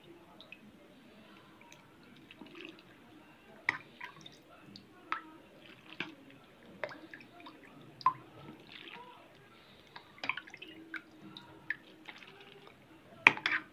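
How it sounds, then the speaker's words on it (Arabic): Salted water trickles and drips into a jar of pickled turnips, quiet and close, with scattered wet splashes and drops over a soft background and occasional faint speech. "وابدأ بقى ان انا احط الميه بالملح"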